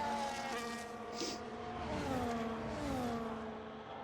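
Several race cars in a racing video game cruise slowly behind a safety car, their engines droning in steady overlapping tones that slowly rise and fall, with no voices.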